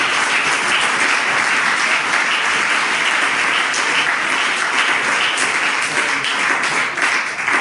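A church congregation applauds during a worship service, a loud, continuous wash of many hands clapping that stays steady and full for several seconds with no talking over it.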